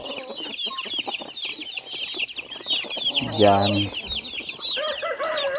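Native chickens cluck and chatter close by, with one louder drawn-out call in the middle and a voice speaking briefly among the birds.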